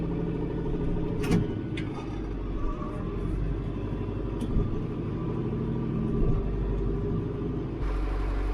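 Tractor engine rumbling steadily while driving over rough, muddy ground on a property, a loud, close, continuous low drone with occasional knocks and clanks.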